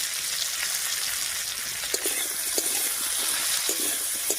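Papaya and potato pieces with salt and turmeric are stirred in a hot pan, a steady sizzling hiss with light scraping clicks of the spoon scattered through it.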